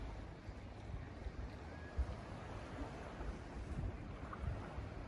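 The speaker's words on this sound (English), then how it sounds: "There's a very nice breeze out here this morning." A morning breeze on an ocean-view balcony at a Jamaican resort rustles as low, faint wind buffeting with distant surf underneath, steady and quiet throughout, with a single small bump of noise partway through.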